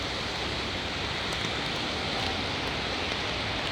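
Heavy rain pours steadily during an e-bike commute near an overpass, a dense, constant hiss of drops close by with no pauses.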